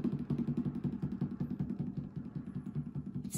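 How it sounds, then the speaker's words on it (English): A snare drum is played very quietly with sticks on its side: quiet, rapid clicking taps in a steady repeating pulse, continuing evenly throughout with a low, mechanical feel. "we hear our side drum, also known as a snare drum, play very, very quietly on the very side of the drum"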